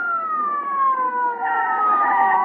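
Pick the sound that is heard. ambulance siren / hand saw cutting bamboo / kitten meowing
ambulance siren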